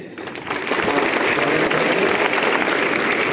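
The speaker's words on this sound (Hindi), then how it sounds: "छात्र तालियों से" Students clap at a welcome ceremony at Bapu Inter College, Pipiganj, Gorakhpur, where guests are being garlanded. Steady, dense applause swells in after a brief pause and fills the hall at full strength until the end.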